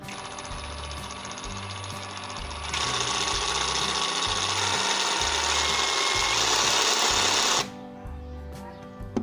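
A cordless brushless reciprocating saw on a Makita 18V battery buzzes in rapid rhythmic strokes, growing louder partway through, then cuts off abruptly leaving a faint hum and a few clicks.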